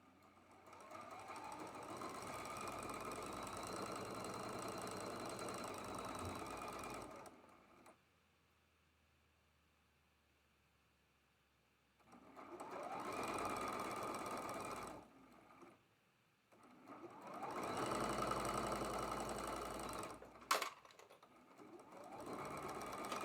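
A sewing machine stitches the last seam of a traditional quilt block in long steady whirring runs, stopping briefly between bursts, heard close and clear with no talk.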